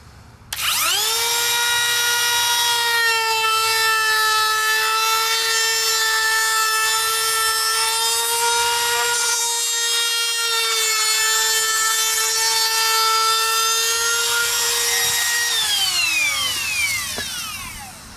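A Ridgid Octane R860443 router spins up and cuts a roundover on pine, a loud, steady high-pitched whine held for about fifteen seconds before winding down, with no talking.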